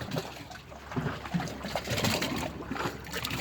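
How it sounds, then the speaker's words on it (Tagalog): Waves washing near a tunnel at Al Ahlam Palace, a steady broadband rush and slosh of water that swells and eases, fairly close and continuous with no voices. "Narinig niyo yung alon?"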